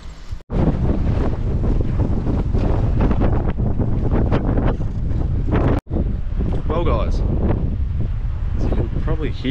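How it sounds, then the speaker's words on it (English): Strong gusting wind buffets the microphone on a small fishing boat on open water, a loud, continuous roar that briefly cuts out twice, with voices heard faintly under it. "quite the shocking wind"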